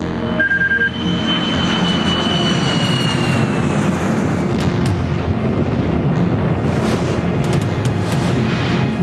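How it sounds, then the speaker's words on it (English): American Airlines Flight 77, a jet airliner, closing on the Pentagon at high speed: a loud, continuous roaring rumble with a falling whine, broken later by sharp cracking bursts, with no talk. "American Airlines Flight 77 tears into the southwest face of the Pentagon at 450 miles an hour."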